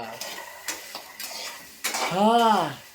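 Cooking in a home kitchen: a utensil scrapes and clinks against pots and pans in several separate stirring strokes, followed by a brief rising and falling squeal-like tone, all close and fairly loud.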